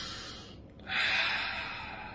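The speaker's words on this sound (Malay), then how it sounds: "Okey, seterusnya, tarik nafas." A deep inhalation drawn in through the nose or mouth, rising sharply after a brief quiet moment and holding as a steady airy rush, close and fairly loud with no talking.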